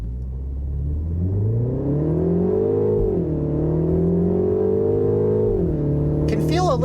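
A 2025 Mini Countryman S launching from a stop at full throttle toward 60 mph, its engine note rising steadily through the gears, with a brief dip at each upshift, loud and close from inside the cabin.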